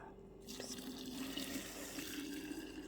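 Boiling water pours steadily into a jar of sliced orange, lime and lemon with sugar and mint leaves for a homemade mojito. A close, continuous rushing splash begins after a brief quiet start and runs without a break.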